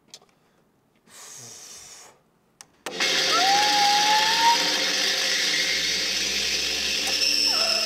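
A grinder attached to a hydraulic press spinning up, switching on after a few faint bumps and rising into a loud, bright, steady whirring whine with a climbing tone, continuous to the end.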